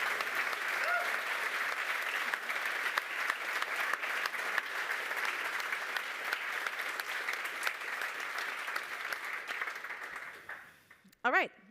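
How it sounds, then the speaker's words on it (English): Conference audience applauding at length, a steady broad crowd clapping that fades out near the end before a brief voice is heard. "give an extraordinary applause to the NEOS team who made this all possible"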